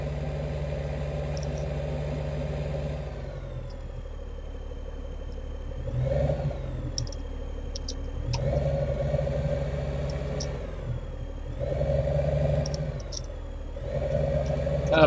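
A big tractor engine in Farming Simulator 2015 drones at a steady low pitch, then repeatedly revs up and settles back in several surges, loud and close with no voices.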